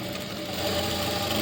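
A sewing machine runs steadily through a brief stretch of stitching on blouse fabric, a continuous close, even whir with no pauses and no voices.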